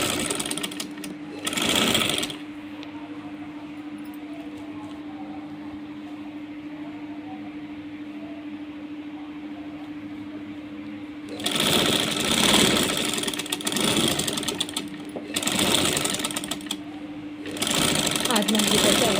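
A sewing machine runs in bursts of rapid mechanical stitching, close and fairly loud, adding a reinforcing line of stitches over a seam, with someone talking quietly between runs and a steady hum throughout.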